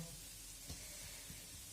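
Khrustyky pastries frying in a pan of hot oil, a faint, steady sizzle with a couple of soft knocks, heard alone without talk.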